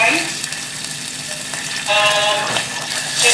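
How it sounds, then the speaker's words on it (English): Flour cooking in butter over low heat in a pan for Turkish flour halva, giving a steady soft sizzle with brief stirring scrapes, close and alone without talk. "we're gonna cook the flour with butter for I don't know how long"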